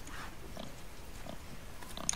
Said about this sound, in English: Why does it sound like the boar is throwing up?